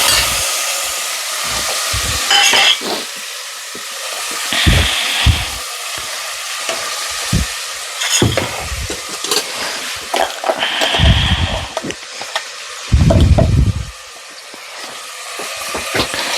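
Ginger garlic paste sautéing in hot oil for a biryani, an intermittent sizzle broken by loud scraping stirs and clanks of a spoon against the pan, with no talking.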